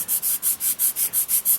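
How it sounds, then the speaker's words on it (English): A carved wooden weaving hook is sanded in quick, even strokes, about eight rhythmic rasping passes in under two seconds, close and clear with no talk. "The sanding really is just that final finesse."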